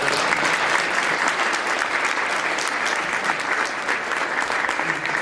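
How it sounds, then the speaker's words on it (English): Steady, dense applause from a seated audience after a talk on digital citizenship fills the whole stretch at an even level, many hands clapping together without a break. "Can we give her a round of applause"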